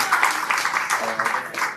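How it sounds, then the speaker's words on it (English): Audience applause at a book launch event, steady close clapping from many hands that holds throughout this brief moment. "So please, round of applause for my fiancée."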